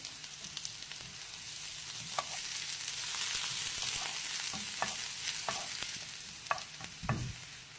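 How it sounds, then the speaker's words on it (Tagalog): Chopped onion and ginger drop into hot oil in a pan and sizzle steadily, with scattered clinks and scrapes of stirring and a louder clatter near the end. "Mainit na po yung mantika. Lagay na po natin yung sibuyas. Lagay po natin yung luya."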